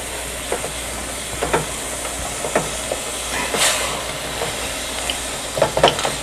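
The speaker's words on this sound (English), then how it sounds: "You want to keep turning your meat over, because of course only the bottom of it will cook if you don't." Meat sizzling and frying in a pan on a home cooking show, a steady broad hiss with scattered pops and crackles and a brief louder burst of steam midway, close and without talk.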